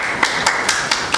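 A few sparse, evenly spaced handclaps from an audience at the 2017 World Script Symposia lecture as a presenter is introduced, moderately loud with no speech.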